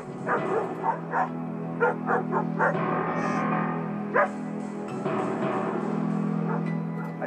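Several dogs bark and yip in short, irregular bursts, fairly close, with some whimpering between barks and no talk over them.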